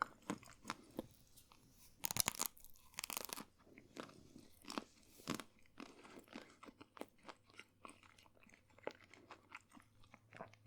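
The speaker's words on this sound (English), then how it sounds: "that crunch after it's been in the freezer is so satisfying" Close, crisp crunching and chewing of a frozen dark chocolate Jaffa cake, sharp bites followed by a run of smaller crackly chews, quiet and intimate with no talking.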